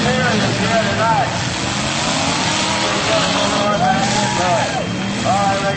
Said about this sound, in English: Look out, big hit right down here.